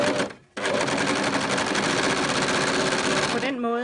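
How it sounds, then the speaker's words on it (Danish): A sewing machine sews the side seam of a Minikrea 33030 ruffle dress: a short burst, a brief pause, then a steady close run of rapid stitching lasting about three seconds before stopping. "Og så er jeg klar til at køre min sidesøm hernede af."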